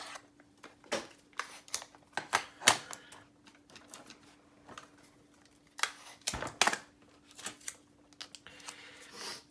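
Short, sharp tearing and peeling of tape pieces at a model-building bench during a 1/18 HobbyBoss AV-8B Harrier build, several quiet crisp rips scattered across the stretch with near-silent gaps.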